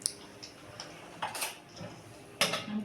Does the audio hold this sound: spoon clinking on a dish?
yes